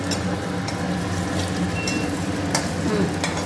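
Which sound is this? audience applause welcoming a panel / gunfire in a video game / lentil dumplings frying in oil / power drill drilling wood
lentil dumplings frying in oil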